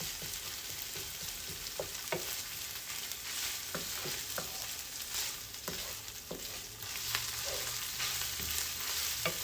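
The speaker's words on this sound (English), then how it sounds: "I'm going to take my onions and cook them to the little translucent" Sliced onions sizzle steadily in a hot pan for Asian chicken and fried rice, with a constant frying hiss and scattered scraping taps as they are stirred, close and continuous without voices.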